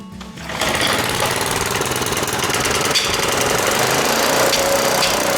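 A small diesel engine, started with a recoil starter and starting fluid, catches and runs loud and close, a steady, rapid knocking clatter that holds unbroken after a brief pull at the start.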